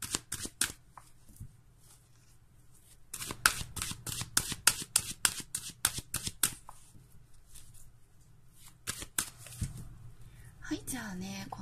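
Fortune-telling cards being shuffled close up in a tarot-style reading, a quick run of crisp riffling bursts that pause and then resume, loud and alone with no voice over them.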